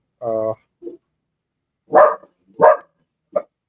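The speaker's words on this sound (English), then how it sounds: "I have my dogs in the back." A few sharp dog barks and a short yip come in separate bursts, close and fairly loud with quiet gaps between them.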